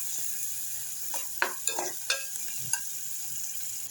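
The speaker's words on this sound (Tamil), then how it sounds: "நல்லா ஃப்ரை பண்ணிக்கலாம் அந்த தக்காளி பேஸ்ட்டு இஞ்சி பூண்டு பேஸ்ட்டோட சுண்டைக்காய் நல்லா வணக்கிடலாம்" Turkey berries fry with tomato paste and ginger garlic paste under a low, steady sizzle, broken by a short run of spatula scrapes and taps near the middle.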